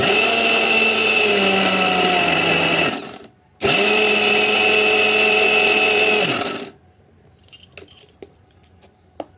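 Mixer grinder blending chilli, ginger, garlic, coriander and cumin powder into a paste: two loud, steady whirring runs with a short pause between, then stopping, followed by faint clicks and handling noises.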